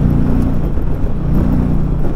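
Engine of a 2020 Indian Challenger Dark Horse motorcycle running steadily up close, a low droning rumble with slight swells as the throttle is worked, no voices over it.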